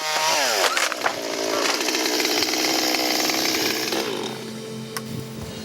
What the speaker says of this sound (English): anything can happen when you're using a chainsaw.